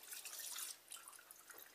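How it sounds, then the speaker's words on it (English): Cointreau being poured into a cocktail punch of juice, cranberry juice and crushed ice, a steady close liquid pour and trickle with splashy drips, quiet and without talk. "So Mum's now pouring in there, as you can see, 100 millilitres of Cointreau."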